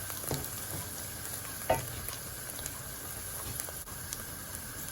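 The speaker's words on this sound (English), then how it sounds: "And I'm going to fry them for a couple of minutes as well." Ingredients for lamb karahi fry in a pan with a constant close sizzle, broken by a single spoon knock and a few light stirring scrapes, with no voices.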